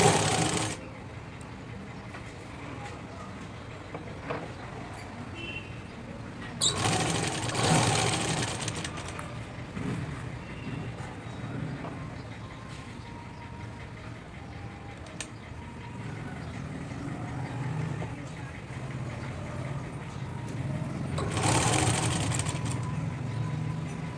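A sewing machine stitching along the neck of a blouse, running slowly with a steady mechanical whir and a few louder bursts where the stitching speeds up, with faint talk in the background.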